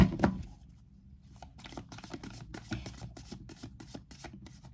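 Tarot cards riffle and shuffle close up, a rapid papery flutter with repeated soft snaps and taps, no voices.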